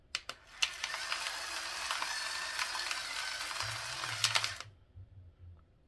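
A salt and pepper grinder set to a fine grind gives a close, dry, continuous ratcheting crunch for several seconds, with a few sharp clicks at the start and end before it stops.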